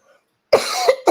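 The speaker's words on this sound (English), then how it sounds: "They think I have post nasal drip, which is ultimately causing a cough." A person coughs twice in quick succession, close and fairly loud, with a faint breath before the first cough.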